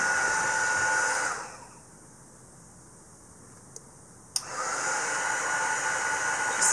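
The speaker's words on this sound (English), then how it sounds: "And once again, we have the heat gun going." A heat gun blows loudly for embossing vellum on a stamped card, then cuts off for a few seconds of near silence broken by small clicks before roaring back on with a steady hiss.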